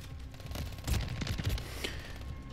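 Bursts of gunfire from Call of Duty, a cluster of sharp shots around the middle of a short stretch of game noise, moderately loud with no talking.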